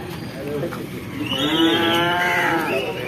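Cattle at a busy village livestock market give a long, loud moo up close, drawn out over a couple of seconds, with a murmur of crowd noise behind.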